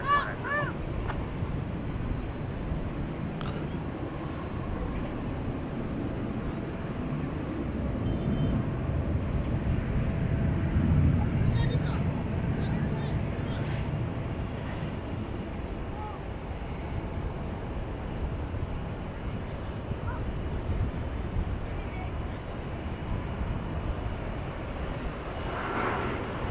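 An American Airlines airliner from San Antonio, Texas, moves at DFW Airport at night, a steady, distant engine rumble that swells toward the middle and then fades slightly, with no talk over it.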